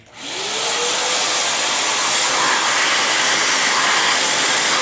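Steady, loud roaring suction of a vacuum cleaner pulling dust out of a PS4 console, running continuously and close by, a broadband whoosh with a faint rising whine at the start.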